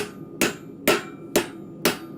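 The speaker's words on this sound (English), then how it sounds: "I'm just kind of using the weight of the hammer and not actually doing any force in my swing other than the weight of the hammer" A blacksmith's ball peen hammer strikes hot metal at the forge four times in a steady, even rhythm, each ringing blow close and sharp over a faint background hum, with no talk.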